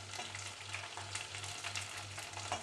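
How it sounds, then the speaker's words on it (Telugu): Green chilies frying in hot oil with garlic paste, giving a continuous soft crackling sizzle, fairly quiet and even, with faint spatula touches and a low steady hum underneath. "పచ్చిమిర్చి వేసుకొని ఒక 2-3 నిమిషాలు ఫ్రై చేసుకుందాం"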